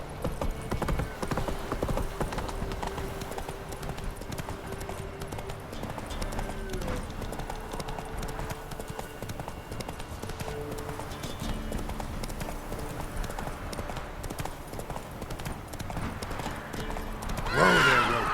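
Roach the horse in The Witcher 3 galloping with a rapid clip-clop of hooves, neighing, and a louder burst near the end, with background music and a voice speaking.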